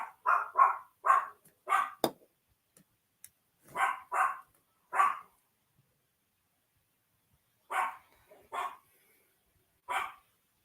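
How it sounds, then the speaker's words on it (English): Several dogs barking outside in short bursts of yips and barks, fairly near, separated by quiet gaps, with no talking. "I'm just paying attention to my dog and they're barking."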